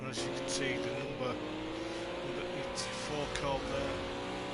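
A Ginetta GT4 race car circuits Oulton Park during a wet Supercup race, its engine note droning steadily with shifting pitch throughout, heard under continuous commentary.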